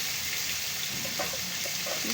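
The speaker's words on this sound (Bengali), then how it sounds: "সব কয়েকটা মাছ আমি এভাবে দিয়ে দিচ্ছি কড়াইতে কড়াইটা কিন্তু আমি খুব ভালো করে গরম করে নিয়েছি তারপর এই মাছটা আমার ভাজতে পাঁচ মিনিটের মতন সময় লাগবে" Catla fish pieces frying in oil in a well-heated karahi, giving a steady close hiss with faint crackles and spits throughout.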